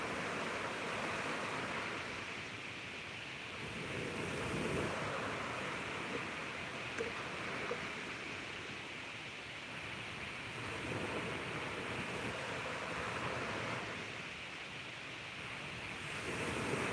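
Ocean waves wash onto a beach at sunrise in a steady, rolling surf roar, swelling and easing in broad surges about every few seconds, with no voices.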